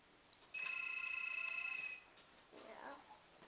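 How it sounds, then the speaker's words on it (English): A telephone rings once with a bright electronic tone lasting over a second, fairly faint and indoors, followed by quieter background noise; no speech is heard. "Sorry about the phone."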